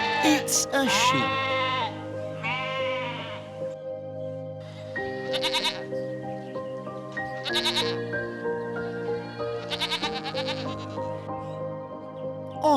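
Sheep bleat repeatedly over a farm scene, several wavering, nasal calls spaced a second or two apart, some overlapping, loud and close with no talk.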